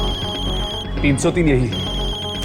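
A mobile phone ringtone plays steadily through the clip, a sustained tonal ringing with a brief burst of speech in the middle, set in a horror television drama scene.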